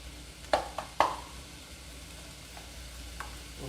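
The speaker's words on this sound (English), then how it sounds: "we're going to saute them just briefly" Carrots sauté in a pan for zucchini lasagna, a quiet steady sizzle broken early by a couple of sharp clinks as they are stirred, with no talking.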